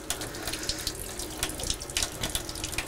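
OxyClean cleaning solution running through a keg beer line, a steady splashing, gurgling stream of liquid with small irregular spatters, fairly quiet and close.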